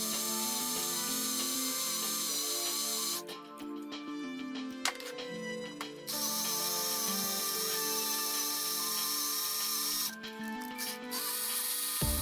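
A power drill bores a hole in PVC pipe with oil dripped on the bit, a close, continuous whining hum that briefly drops out and restarts twice.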